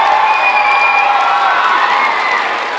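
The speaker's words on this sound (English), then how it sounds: "How about all you all-stars out there giving your families a big round of applause and making some noise for your families?" A large crowd of students and families at an academic all-stars awards night applauds and cheers loudly, with whoops and children's shouts blending into a sustained roar.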